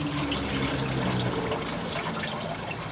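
Water from a bucket poured into a toy water gun, a steady, dense splashing gush lasting a few seconds at close range with no talking.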